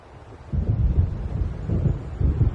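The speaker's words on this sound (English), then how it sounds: "It seems there's a storm coming." Low, rumbling thunder from an approaching storm in Alan Wake Remastered rolls in after a quiet start and swells in uneven waves, deep and sustained, with no voices.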